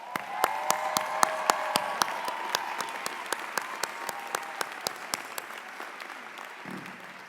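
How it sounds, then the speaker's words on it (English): An audience at a university arts commencement ceremony gives a round of applause. A dense wash of many hands clapping carries a few sharp, evenly spaced loud claps near the microphone, then slowly fades toward the end. "a round of applause for the families here"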